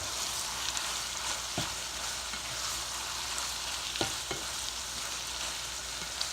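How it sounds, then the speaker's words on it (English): Tofu stir-fry sizzling steadily in a hot pan, a continuous close frying hiss broken by a few sharp clacks of the pan and utensil as it is tossed. "I'm going to give it one more toss."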